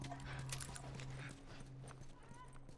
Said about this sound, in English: So, stay with the horse.